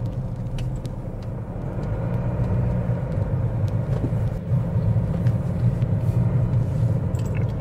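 A car driving through Central London, steady low road and engine rumble from inside the vehicle with faint ticks and knocks of traffic around, no talking.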